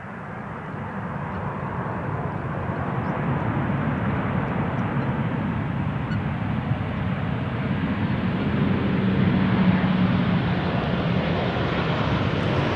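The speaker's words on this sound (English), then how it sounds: "first up, the Transavia 737-800, coming in from Innsbruck" A Transavia Boeing 737-800 arriving from Innsbruck on runway 18R at Amsterdam Schiphol makes a steady, broad jet roar that holds loud for the whole stretch with little change, with no voices.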